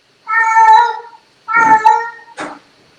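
A cat meows twice in long, drawn-out wails with a brief scratchy rustle after, loud and close with no voices.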